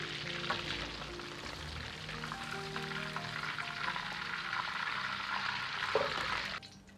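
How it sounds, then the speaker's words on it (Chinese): Chicken wings deep-fry in hot oil with a continuous crackling sizzle, fairly quiet and even, before it cuts off abruptly near the end. "炸至鸡翅表面稍微发干焦黄"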